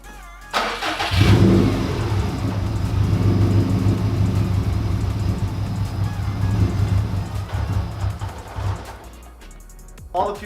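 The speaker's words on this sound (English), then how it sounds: "we're gonna start the car to clear the fuel pressure out of the lines" A Subaru STI with newly installed injectors cranks and starts, then runs steadily at a loud, close idle for several seconds to purge fuel pressure from the lines before stumbling and dying near the end.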